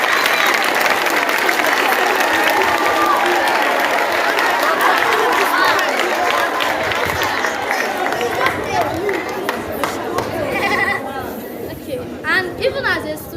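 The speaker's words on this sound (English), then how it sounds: "Please, a round of applause for him." Students at a school farm awareness event applaud for their principal, loud sustained clapping mixed with crowd chatter that thins out and gives way to talking and scattered voices near the end.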